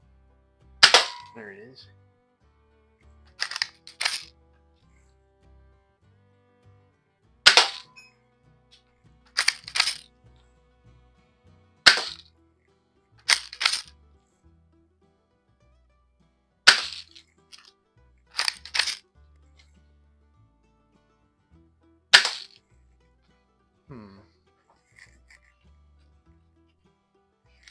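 An Umarex DSX-45 air pistol test-fired at a target: about a dozen sharp, loud snapping shots, spaced a few seconds apart and sometimes in quick pairs, with a man's brief remarks between them.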